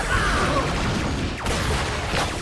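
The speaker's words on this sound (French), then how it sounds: "Faut arrêter ces explosions!" Explosions rumble and crash through a Power Rangers Beast Morphers cartoon scene set around an underground drill, a dense continuous roar with sweeping whooshes and repeated impacts, loud throughout.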